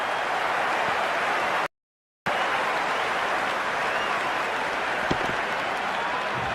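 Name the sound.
crowd applauding a big hit in Cricket 26 video game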